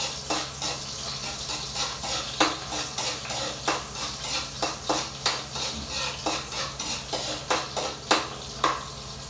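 Onions sauté in oil in a pan under a low steady sizzle, punctuated by a regular series of sharp metallic scrapes and taps as a utensil stirs them against the pan.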